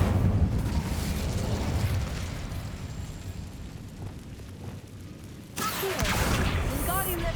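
Incendio fire spell cast in the video game Hogwarts Legacy: a sudden whooshing burst of flame erupts after a stretch of low rumbling ambience, followed by crackling and sparkling tones.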